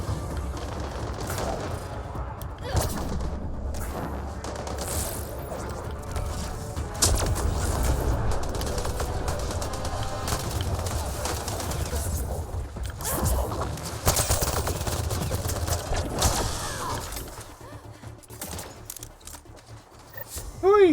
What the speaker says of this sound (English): Where the heck are they shooting from?